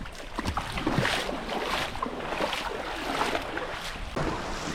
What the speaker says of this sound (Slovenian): In pa prozenje po vodi.